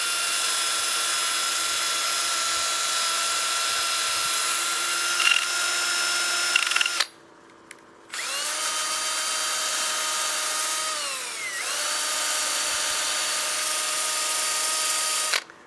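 A drill spinning a sanding disc against a wooden bowl turning slowly on a lathe, a steady loud whine that cuts out for about a second, then resumes with pitch sweeps as the load changes.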